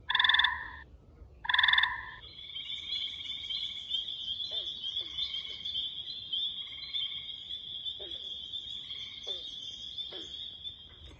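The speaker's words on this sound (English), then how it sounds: "listen for the banjo-like sounds of our green frogs, which actually I can hear in the background now" Frogs calling outdoors: a long, loud gray tree frog trill dominates, with several short, twangy banjo-like green frog croaks scattered beneath it, a couple of strong calls at the start.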